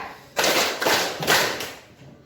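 Three evenly spaced group hand claps in a counting game, sharp and close, each followed by a short room echo.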